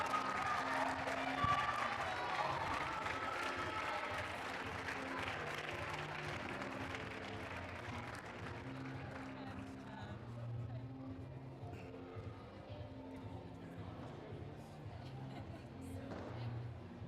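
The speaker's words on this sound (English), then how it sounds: "Let's give them a big round of applause, ladies and gentlemen" Applause from a crowd at a 10by20 ladies league grand final greets an unbeaten team coming up for awards, a steady, moderately distant patter that slowly thins out, with some background murmur.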